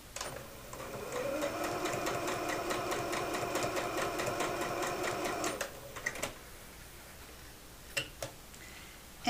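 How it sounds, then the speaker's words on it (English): A sewing machine runs steadily for several seconds, stitching fabric pieces together along a 3/8-inch seam for a large tote bag, then stops, followed by a few soft clicks and handling sounds. No one speaks. "again you'll stitch all the way across, 3/8 of an inch seam allowance"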